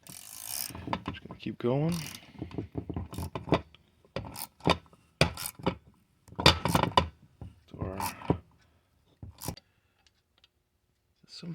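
A thread-cutting tap is turned into a Carter AFB carburetor, giving scattered short ratcheting clicks and grinding bursts with pauses between them, close up, with someone speaking briefly under the work.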